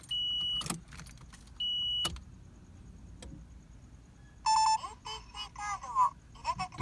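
A right-hand-drive Nissan S14 has its ignition turned to the on position. Key clicks and short electronic warning chimes come first, then a burst of high beeping tones, all close up in a quiet interior.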